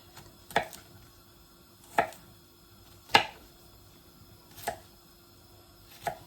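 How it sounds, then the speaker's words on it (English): A knife chops through washed garlic cloves on a board while Jamaican chicken foot soup is being prepared, five sharp, evenly spaced cuts ringing out close and clear against a quiet kitchen background. "I've already washed and cleaned my garlic, so I'm just kind of cutting into the garlic to put them in"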